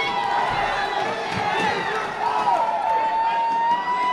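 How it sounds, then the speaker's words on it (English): A crowd cheers for a hometown fighter in a boxing video game, a dense, continuous roar of voices and whistles with a rising whoop, with a commentator speaking over it. "So crowd continues to cheer on their hometown boy, Ricardo Valdovinos."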